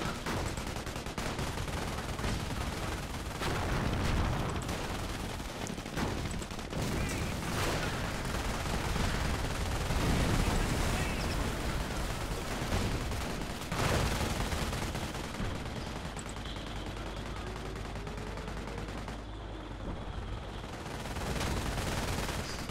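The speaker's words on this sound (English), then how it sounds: "Those anti-tank guns that are ripping me apart." Sustained battlefield gunfire from anti-tank guns in Company of Heroes, dense repeated shots and bursts running continuously at steady loudness, with no talk over it.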